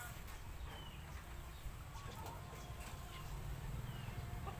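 Chickens clucking at a rural home in a green, natural setting, soft scattered calls over a steady low rumble, with faint background noise throughout.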